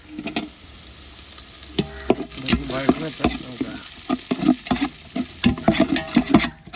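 Chopped onions and green chillies sautéing in a pan for Arabian chicken kabsa, with a steady sizzle broken by frequent sharp scrapes and knocks of a spoon stirring close by, no voices.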